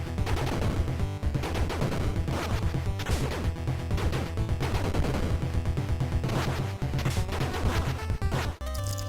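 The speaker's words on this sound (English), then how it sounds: "Everything sounds like it should, from the bullets to the explosions." Dense retro 8-bit game action from the NES title Mission Impossible, with rapid bursts of gunfire and crashing explosion blasts layered over continuous chiptune music, loud and unbroken for the whole stretch.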